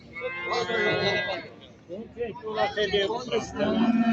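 Cattle low and moo at a busy livestock market in Ganja, loud and near. Several voices talk and call in the crowd around them.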